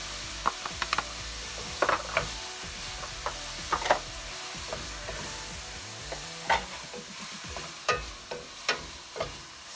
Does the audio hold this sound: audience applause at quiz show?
no